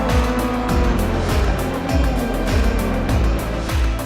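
Rallycross race cars at a track in Latvia, engines roaring loud and close with repeated rising revs and gear shifts, one car after another blending into a continuous racing drone.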